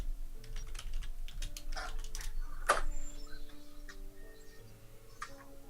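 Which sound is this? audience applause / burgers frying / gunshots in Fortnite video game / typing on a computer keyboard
typing on a computer keyboard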